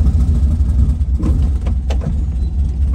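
A 1967 VW Type 3 Squareback engine runs rough with its carburetor linkage missing on two cylinders, giving a close, loud, uneven low rumble that pulses and stumbles continuously.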